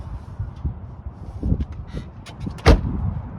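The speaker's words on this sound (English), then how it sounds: "Look how nice those doors close." A door closing on a 1989 Chrysler TC by Maserati, a low-mileage original car, gives one sharp, solid thump near the end, close by, after faint handling noises.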